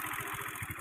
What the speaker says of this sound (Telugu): చిన్నది ఓల్డ్ మోడల్ బైక్